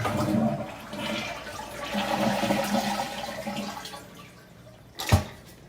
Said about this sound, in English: And flush it to get rid of the water.